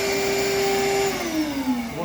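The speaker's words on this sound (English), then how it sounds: "using a vacuum cleaner which is suitable for wet and dry" A wet and dry vacuum cleaner sucks the last water from the bottom of an autoclave chamber with a loud, steady motor whine that dips and wavers in pitch as the water is drawn up.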